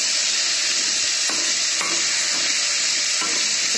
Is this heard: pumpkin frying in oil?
yes